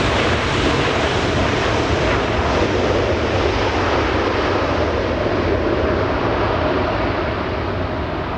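A jet airliner lands on runway 24 right at Los Angeles International Airport in crosswind, its engines giving a loud, unbroken roar that fills the whole stretch.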